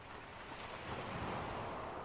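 Waves crash and wash over rocks in a steady, dense roar with a gust of wind, continuous and fairly loud with no voices.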